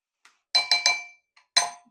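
Metal whisk clinking against a bowl while working thick creamy tahini sauce, four or five bright, sharp clinks with short ringing tails, loud and close, with a couple of faint taps between.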